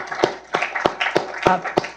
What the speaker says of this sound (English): A round of applause for all of your work.